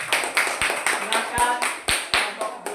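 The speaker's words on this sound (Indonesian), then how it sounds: "Baik, tepuk tangan." Classroom applause after a student group's presentation, a run of rhythmic, evenly spaced claps from a group of pupils, fairly close and steady, with faint voices underneath.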